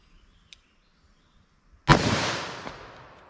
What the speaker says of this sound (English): Let's try our 357 Magnum. All right, 357 Mag through our MDF.